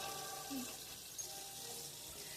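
Tap water runs steadily in a homestead kitchen sink while eggs are washed and rinsed, a close, continuous hiss and splash with no clear pauses.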